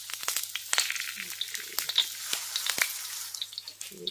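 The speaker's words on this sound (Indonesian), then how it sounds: "Minyak sudah panas, kita masukkan bawang merah." Shallots frying in hot oil in a wok, a dense crackling sizzle with scattered sharp pops and spits, steady and close throughout, with no talk over it.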